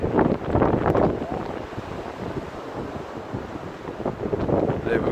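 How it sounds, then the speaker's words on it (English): Strong gusting wind buffets the microphone on the coast by the White Cliffs of Dover, with the sea's waves rumbling and washing underneath, surging loudest at the start and end. "it's quite windy and obviously you can hear the sea"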